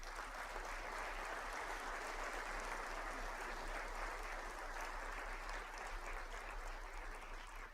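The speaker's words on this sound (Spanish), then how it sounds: "Le damos un aplauso al Señor." A church congregation applauds during a worship service. The clapping is a steady, continuous wash that holds at an even level for about eight seconds, quite faint and with no voices over it.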